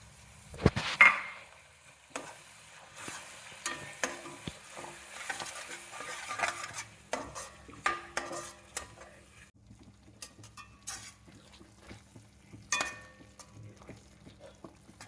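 Spinach paste for a spinach pulao sizzles and is stirred in a pan, with scraping, scattered clinks of utensil on metal and a low steady crackle throughout, fairly quiet and without talk.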